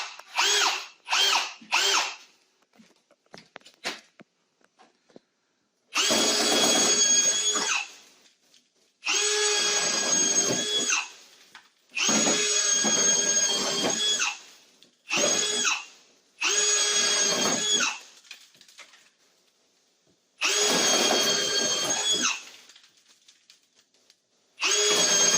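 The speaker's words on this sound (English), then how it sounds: "we're going to drill around the outside edge" A power drill fitted with a paddle bit cuts around the outside edge of an opening for a Velux sun tunnel, running in several loud, sustained bursts separated by brief pauses.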